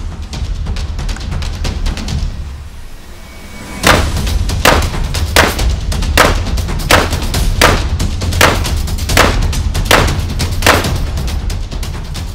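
A Beretta 1301 Comp Pro semi-automatic shotgun fires about ten loud, sharp blasts at steel targets in an even, unhurried rhythm, each shot ringing close and clear after a short quiet lead-in.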